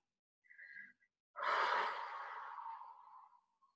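A single long exhalation during a yoga stretch, a breathy sigh that swells quickly and fades over about two seconds, close and quiet, preceded by a brief soft intake.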